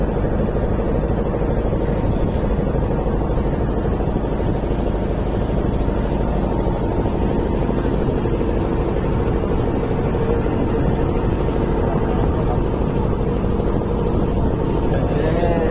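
A loud, constant engine drone rumbles throughout, steady and close, from a motorboat running at a fixed speed on Tanguar Haor wetland in Bangladesh.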